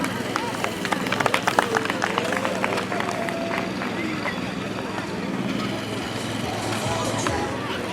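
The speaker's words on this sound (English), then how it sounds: "A round of applause, please." Festival crowd applauding at a trophy and kits launch event, a dense, sustained roar of clapping with scattered sharp claps standing out, steady for several seconds.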